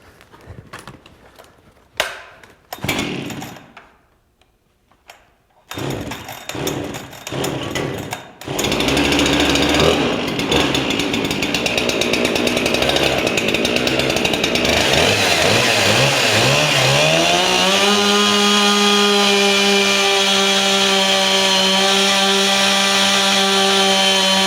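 A chainsaw is started with a few pull-cord bursts and pauses, then settles into a loud, continuous engine drone close by that climbs to a steady high-revving whine.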